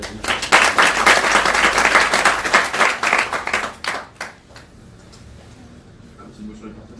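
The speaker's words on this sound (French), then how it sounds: "ils sont là cette année et on les applaudit, on les remercie aussi." Audience applauding at a start-up press conference in Lyon, a dense burst of clapping for about four seconds that then thins out and fades, leaving a quiet room with faint stray claps.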